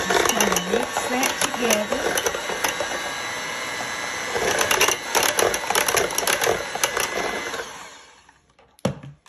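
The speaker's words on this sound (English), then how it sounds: "I'm going to use my mixer and just kind of mix that" An electric hand mixer whirs and rattles through melted cream cheese and butter in a bowl, a close, uneven mechanical drone that winds down near the end.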